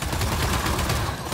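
Gunfire in the video game Gears 5 crackles in a continuous, dense automatic burst throughout, loud and unbroken, with no voices heard.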